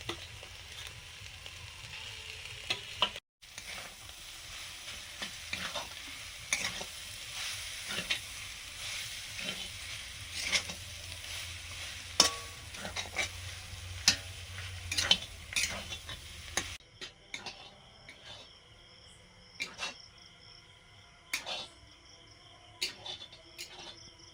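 Fish chop filling with mashed boiled potato being stirred and fried in a pan, scraping strokes over a steady sizzle, close and fairly loud, with a short break early and a drier, sparser stretch of stirring near the end.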